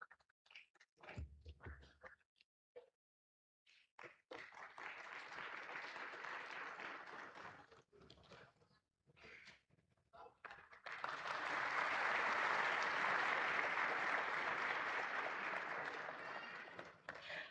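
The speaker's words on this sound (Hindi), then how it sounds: "जोरदार तालियों से स्वागत" Loud applause welcoming Indian Railways zone managers receiving efficiency shields at an awards ceremony: scattered claps and pauses build into a sustained, dense wave of hall-wide clapping that swells toward the end.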